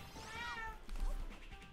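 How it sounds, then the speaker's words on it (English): A pet cat named Chocolate meowing indoors, one clear, close, rising-and-falling meow followed by a short softer chirp, with a few light knocks in the background. "Kitty."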